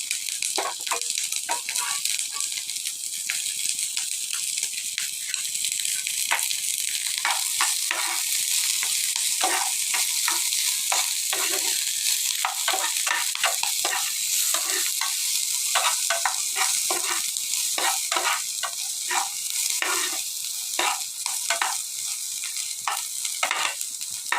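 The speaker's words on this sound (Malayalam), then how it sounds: "ഇനി അതിലേക്ക് നമ്മൾക്ക് ഈ ഉള്ളി ഇട്ട് കൊടുക്കാം ചുവന്നുള്ളി അരിഞ്ഞു വെച്ചത് ഇട്ട് കൊടുക്കാം" Chopped shallots frying in a pan while being stirred, a steady loud crackling sizzle broken by rapid scraping and tapping strokes of the spoon throughout, close up with no talk.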